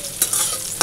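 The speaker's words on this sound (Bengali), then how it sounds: "এখানে বসিয়ে দিয়েছি ভাত, আর এখানে বসিয়ে দিয়েছি করলা ভাজা" Bitter gourd slices fry in oil in a pan, a close steady sizzle with two quick scraping stirs.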